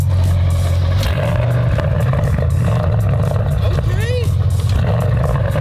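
A car engine idles with a heavy, deep rumble, then revs once, the pitch sweeping up and falling back, loud and close, with people talking excitedly over it.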